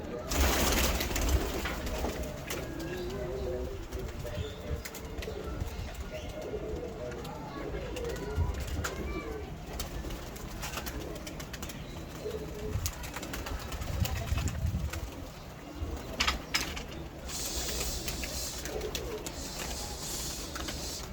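Pet pigeons coo in repeated low phrases through a noisy outdoor scene, with someone talking intermittently over them and occasional rustling and thumps.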